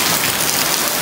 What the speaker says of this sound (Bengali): বৃষ্টি হচ্ছে বাইরে,